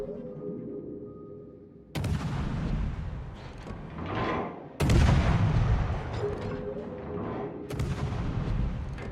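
Turret cannons in a ranked video game match boom in several heavy, sharp blasts spaced a few seconds apart, loud and close over a steady hum, with no talking.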